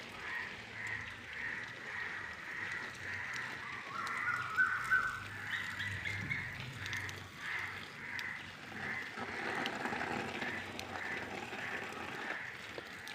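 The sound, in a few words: crows cawing and fighting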